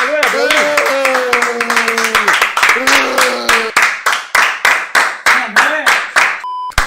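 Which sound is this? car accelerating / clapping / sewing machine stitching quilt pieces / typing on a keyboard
clapping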